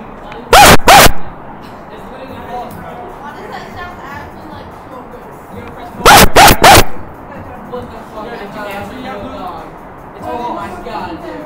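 A man imitating a dog barking, voicing two quick bursts of gruff barks several seconds apart, loud and close, with people talking in between and afterward.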